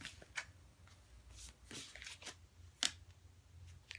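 Tarot cards are shuffled and drawn, making soft, brief riffling and sliding sounds with a couple of sharper card snaps, close but quiet against a still room.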